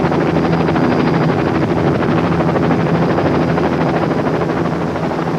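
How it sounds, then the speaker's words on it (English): A helicopter flies in loud and close during a staged paintball mock battle, its rotor and engine roar a dense, steady drone with a throbbing beat that fills every moment. "The helicopter assault is an elaborate and hair-raising stunt staged to spice up what"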